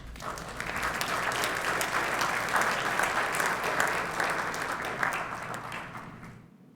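Sustained audience applause welcoming a speaker at a launch event for a Punjabi digital archive project, a steady dense wash of clapping that holds for several seconds before tapering off at the end.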